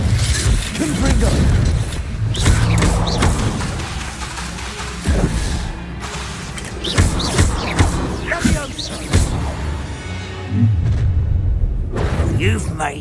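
Fiery Confringo blasting spells burst repeatedly during spell combat in Hogwarts Legacy, loud whooshes and booms layered with clashing effects while character voices speak over the fight.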